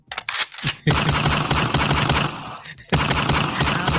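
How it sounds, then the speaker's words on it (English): Dense, rapid bursts of gunfire fill the clip after a brief pause, sustained and loud like automatic weapons, with a short break near the end before resuming. "Then you got the gunshots to end it off."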